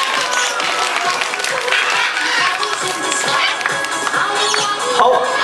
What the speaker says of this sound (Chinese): 请给皮皮拍拍手